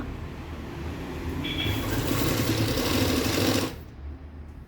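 A sewing machine runs steadily while stitching the fabric edge of a nightie, a loud continuous motor whir with rapid needle chatter that builds slightly before cutting off abruptly near the end.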